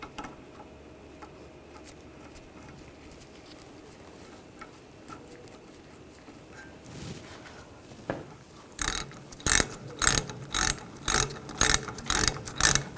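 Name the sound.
ratchet tightening brake hose banjo bolt into caliper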